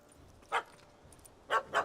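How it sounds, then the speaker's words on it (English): A small dog in the video game Witcher 3 yaps three times: one short bark, then two quick barks in succession, fairly near, over a quiet game background. "Don't know how to handle yappy little dogs?"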